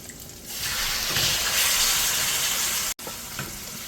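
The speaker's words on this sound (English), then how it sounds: "I'm going to add the chicken." Chicken pieces go onto a hot plate with chili and burst into a loud, hissing sizzle that swells after a quieter start, with a brief cut and scraping stirs continuing.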